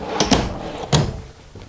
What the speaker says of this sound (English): So again, just big pull-out drawers here.